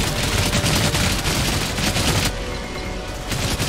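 Dense, continuous gunfire from the Outriders shooter game during a desert ambush, a loud sustained barrage of rapid shots and bursts that thins slightly near the end but never stops.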